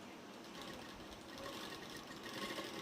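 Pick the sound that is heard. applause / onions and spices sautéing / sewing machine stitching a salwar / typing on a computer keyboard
sewing machine stitching a salwar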